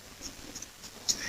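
Chalk or pen writing math on a board or paper: short scratchy strokes in an irregular rhythm, faint and close, with a slightly sharper tap near the end.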